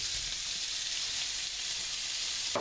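Bacon and onions fry in a pan with a steady, close sizzle throughout, and a brief rattle near the end.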